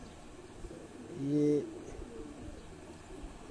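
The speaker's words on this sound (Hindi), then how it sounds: "बहुत मेरी छत पे उड़े हुए कबूतर हैं।" A pigeon coos once, briefly and fairly close, from a flock of old, well-known high-flying pigeons on a rooftop, with a faint voice and quiet background around it.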